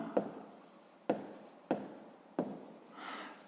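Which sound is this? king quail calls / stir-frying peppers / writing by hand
writing by hand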